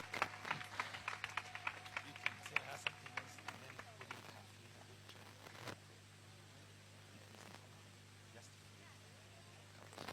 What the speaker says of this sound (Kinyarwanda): Reka tumukomere amashyi menshi.